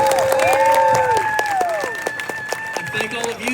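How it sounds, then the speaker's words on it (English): A convention audience applauds at the end of a Final Destination: Bloodlines cast and crew panel at Horror Con LA, a full wash of clapping with cheers and whistle-like tones rising over it. "let's give a big round of applause"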